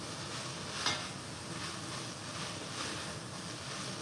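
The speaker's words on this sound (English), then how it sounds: "So now I keep on stirring it." Red curry chicken sizzling in a pan while being stirred, a soft, steady hiss with faint scraping and a single brief clink near the start.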